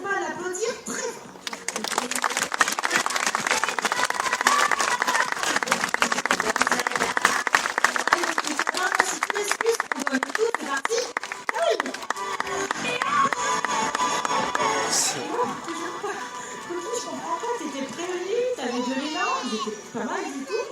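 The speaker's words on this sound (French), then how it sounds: "n'hésitez pas à l'applaudir très fort" An audience at a sea lion show at La Flèche zoo claps loudly and steadily for the sea lion Cookie, with excited crowd and children's voices mixed in before the clapping thins out.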